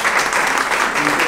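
Audience at an award ceremony breaking into applause, a dense steady burst of clapping filling the room, loud and close with no voices over it.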